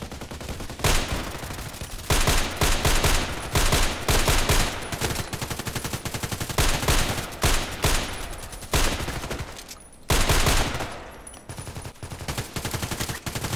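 Sniper fire in a video game with a DT-SRS rifle, loud sharp reports recurring throughout in irregular bursts, dense and close, with no talking.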